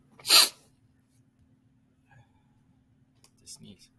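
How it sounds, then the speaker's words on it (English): A single sharp sneeze bursts out near the start, loud and close, followed by quiet and a couple of faint breathy sounds; no talk. "Sneeze."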